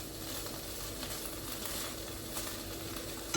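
Tuna sisig fries in a pan with a steady, close hiss of sizzling oil that runs without a break, with a small clink at the very end.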